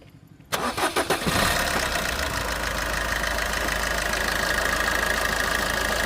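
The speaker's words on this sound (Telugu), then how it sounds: "ఇంజిన్ కూడా స్టార్ట్ చేసి చూపిస్తాను" A 2018 Maruti Suzuki Ertiga engine cranks briefly, catches with a loud roar, and settles into a steady, close idle that runs to the end.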